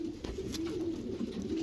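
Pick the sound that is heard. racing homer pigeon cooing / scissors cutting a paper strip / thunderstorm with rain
racing homer pigeon cooing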